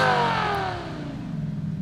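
Lamborghini Huracan V10 in the Need for Speed game inside a tunnel, a loud rev that sweeps downward and settles into a throbbing, pulsing idle.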